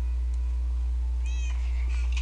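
A pet cat meows faintly indoors, a couple of brief high calls over a steady background hum.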